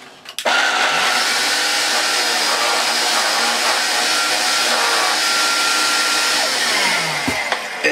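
A refurbished Vax Air Cordless Duo vacuum cleaner switches on and runs with a steady, loud, airy whine, then cuts off near the end.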